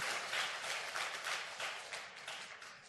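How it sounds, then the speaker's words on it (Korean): A church congregation applauding, a dense, even patter of many hands clapping throughout, moderately distant and fairly quiet. "하나님께 영광의 박수 올려드립니다"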